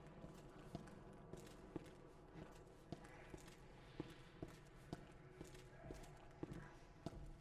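Heavy footsteps of Mr. X stalking through Resident Evil 2 Remake, a steady series of thudding steps at an even walking pace under a dense, busy game soundscape.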